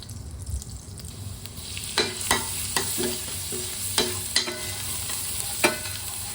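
Butter heating in a pan for sautéing, with steady close sizzling throughout and several sharp clinks and scrapes of a utensil stirring against the pan.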